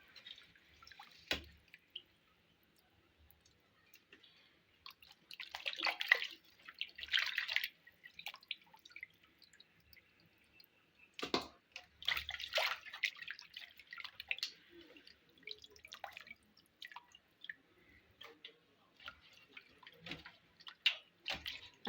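Chicken pieces are rinsed and swished in water for a home-style Tamil chicken gravy, giving irregular splashes, drips and sloshing bursts that come and go close by, with no talking.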